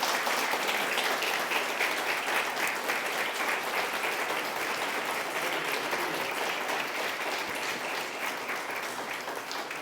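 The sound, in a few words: audience applause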